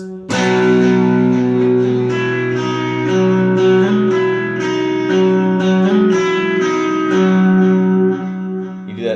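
An electric guitar plays a short melodic lick from a song through effects, sustained notes sliding and ringing steadily for about nine seconds, loud and close with no talking.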